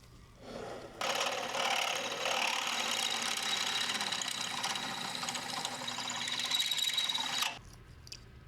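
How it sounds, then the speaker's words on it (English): Steady grinding whir of a drill bit boring out a hole during modification of an old Italian sports car, running continuously for several seconds, close and fairly loud, with no talk. "We're going to go ahead and drill it out, test fit it"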